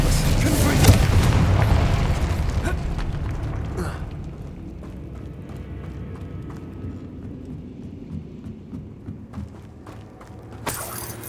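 The Confringo blasting spell explodes in the game Hogwarts Legacy, a loud booming burst with a rumbling tail that fades over a few seconds, with a voice heard in the scene.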